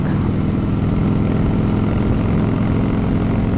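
A Harley-Davidson Fat Boy motorcycle with a Vance & Hines Pro Pipe exhaust gives a steady, loud, close low rumble that holds unbroken throughout, with no voices.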